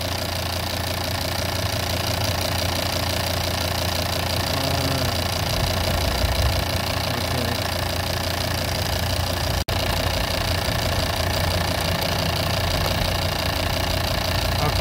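A Volvo XC90 D5 AWD diesel, suffering a stuck swirl flap actuator, idles with a loud, steady rumble and a faint rhythmic knock, broken by a single sharp tick partway through.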